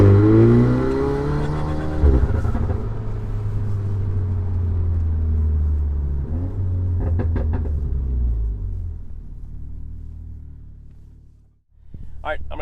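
Volkswagen Golf R with an AWE SwitchPath exhaust and the valves open, making a hard takeoff: a loud rumbling engine note that rises through several gear shifts, then fades to a brief lull before revving again.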